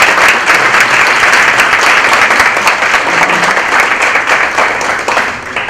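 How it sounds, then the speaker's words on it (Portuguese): Loud, sustained applause from an audience at an academic bioethics session, a thick wash of clapping that holds evenly before tapering slightly at the close. "Recebemos com uma salva de palmas."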